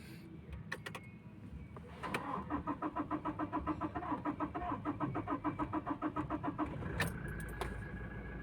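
Toyota Innova 1GD diesel engine cranking after an injector install, a clicking starter rhythm for several seconds before the engine catches and settles into a running idle, heard up close.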